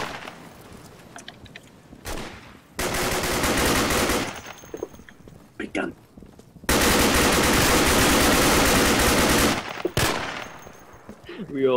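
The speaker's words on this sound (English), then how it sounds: "We all open fire on that one guy." Gunfire from the video game Insurgency comes as two long, loud bursts of rapid automatic fire, with scattered single shots and quieter pauses between them.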